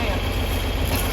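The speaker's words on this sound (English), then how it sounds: "I'm running the tractor." Tractor engine idling steadily during an ear corn harvest in southern Indiana, a constant low rumble that persists throughout without a break.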